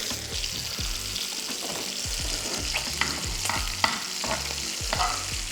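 Frying in a pan with spices and oils for lasooni scallops with chorizo, a continuous close sizzle broken by rhythmic stirring knocks and scrapes against the pan, with no voices.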